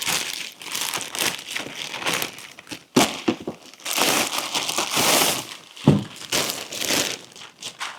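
Plastic packaging around a clothing haul item, including Tommy Hilfiger loafers, is torn and crinkled open close up in repeated loud rips and rustles, with no talking.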